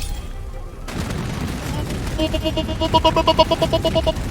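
Rapid gunfire in a video game, heard as a steady rattle of repeated shots that grows louder and more distinct toward the end, over a dense game soundscape.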